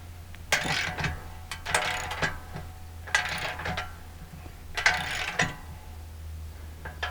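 A ratchet cranks in repeated bursts, clicking rapidly as it tightens locking nuts and bolts on an in-ground basketball system, close and clear over a low steady hum.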